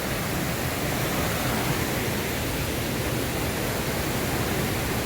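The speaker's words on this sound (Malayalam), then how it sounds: "എന്താ വെള്ളച്ചാട്ടം" Waterfall at Thommankuthu in Idukki, a steady, loud broadband roar of falling water filling the whole clip with no break and no voices.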